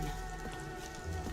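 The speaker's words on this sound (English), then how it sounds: "Splattering rain." Rain splatters steadily in the video game Endfield, a dense, even patter of drops striking surfaces, close and continuous with no voices.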